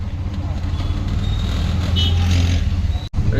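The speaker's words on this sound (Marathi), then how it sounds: "गर्दी आहे ट्रॅफिक आहे फुल" Heavy road traffic near a busy market, a steady loud rumble of engines with a low droning hum that cuts out sharply at the end.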